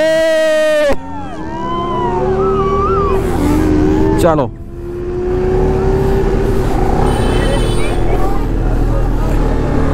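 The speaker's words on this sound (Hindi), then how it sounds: "सब बाइकों में एग्जॉस्ट है और इतनी प्यारी प्यारी साउंड आ रही है ना" Superbikes, including a Kawasaki H2 Carbon and a BMW S1000RR, rev loudly through aftermarket exhausts as riders set off on a New Year group ride, with rising and falling engine notes and sharp blips under crowd chatter and talk.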